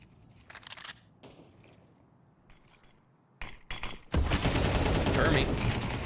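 Gunfire in an esports shooter match, a few scattered shots and clicks early, then a loud sustained burst of rapid fire in the last two seconds, with a commentator's voice heard quietly beneath.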